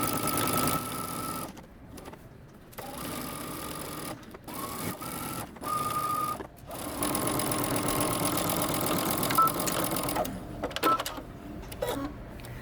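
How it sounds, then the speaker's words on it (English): A sewing machine stitches across a waistband seam in several short bursts, its steady mechanical whir starting and stopping with brief pauses between runs, close and clear with no talking. "go ahead and stitch across using 5/8 of an inch seam allowance"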